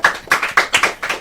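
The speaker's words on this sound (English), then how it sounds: "A round of applause for him, please." Close, loud hand claps at a girls' secondary school oratory competition finale, a quick rhythmic pattern of about five paired beats rather than a broad crowd wash.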